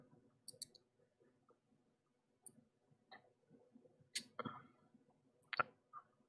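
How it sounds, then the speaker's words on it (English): Sharp, quiet computer mouse clicks, several isolated ticks scattered irregularly over a few seconds in a still room. "if I'm going to click this one"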